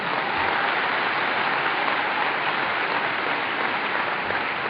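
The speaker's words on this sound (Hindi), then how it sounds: "जिसके लिए मैं एक बार चाहूंगा आप लोग जोरदार तालियां उनके लिए" An audience applauds loudly and continuously at a stage event, producing a dense, steady wash of clapping that holds at full strength without a break.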